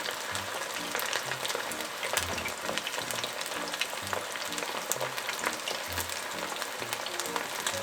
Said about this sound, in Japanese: ちょっと一呼吸置いて油の温度が少し上がってから次の鶏肉を入れてます。